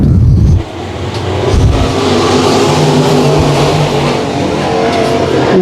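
IMCA Southern Sport Mod race cars roar off at the start at Boyd Raceway, a loud, dense pack of engines revving hard and holding a steady, sustained blare after a brief opening burst.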